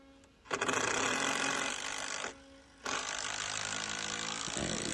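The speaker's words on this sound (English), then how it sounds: "Got another screw in." A power driver sinks a screw during repair work on a triplex, whirring loudly and close in two long bursts split by a brief pause, with a ratcheting, grinding edge.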